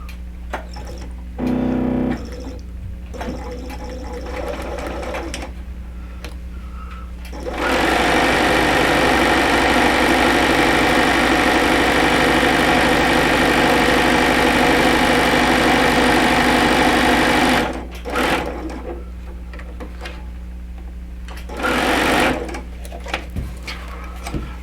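Sewing machine stitching quarter-inch quilt seams with white Aurifil cotton thread, a loud steady whirring run lasting about ten seconds, framed by short start-stop bursts and a faint background hum.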